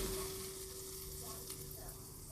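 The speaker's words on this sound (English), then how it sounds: "The sizzling scared the fuck out of me." Cheese sizzles in a bowl inside a microwave, a faint, steady crackling hiss over the oven's constant hum, with no talk.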